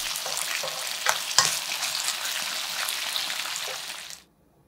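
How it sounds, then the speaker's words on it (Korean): Seasoned vegetables sizzle and crackle in a hot pan with a little water, with a few scraping stirs, before the sound cuts off abruptly into silence. "골고루 1분 정도 볶아준 후 불을 꺼줍니다"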